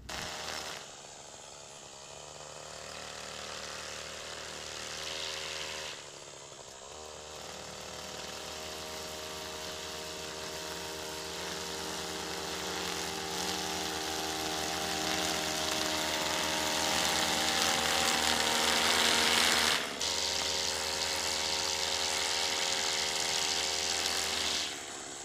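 Gas-powered lawn edger and trimmer engine running steadily nearby, a buzzing two-stroke drone with shifting pitch, briefly dipping twice as the throttle eases, with no talk over it.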